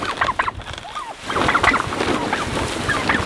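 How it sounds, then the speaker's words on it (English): Turkeys on a farm being moved down the property, gobbling and clucking in a close, busy flock with calls overlapping throughout, over steady outdoor background noise. "we're finally making our way down the property with these turkeys"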